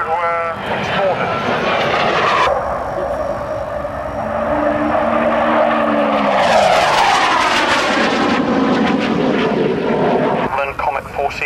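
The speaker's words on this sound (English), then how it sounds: "it's still the only 4-jet maritime reconnaissance aircraft" A four-jet maritime reconnaissance aircraft, developed from the Comet 4C airliner, flies past at the Royal International Air Tattoo at RAF Fairford, its loud sustained jet roar rising and sweeping across the whole clip, with a commentator talking over it.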